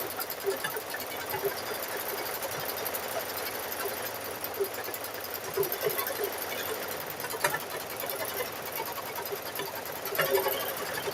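A sewing machine quilting tight layers with cotton batting in a magnetic hoop runs steadily and fairly quietly for the whole stretch, a continuous mechanical whir with small rhythmic fluctuations.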